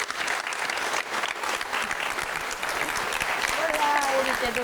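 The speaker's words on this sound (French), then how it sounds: "Merci d'applaudir Angie." A crowd at a prestigious evening event in a château applauds a company's managing director, steady, dense clapping that carries throughout, with voices and a few cheers rising over it near the end.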